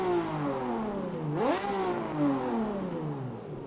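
A racing car engine in a sim racing game revs steadily, drops sharply as a gear shifts, then climbs and winds up again, loud and close with no voices.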